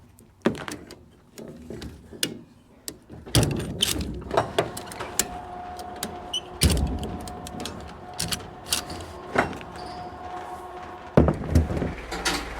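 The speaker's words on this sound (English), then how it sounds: "I haven't opened these bottom doors yet." Bottom doors on farm machinery, a slitter and rake, being opened: metallic clanks, latch clicks and scraping knocks in an irregular sequence at close range, with no talk.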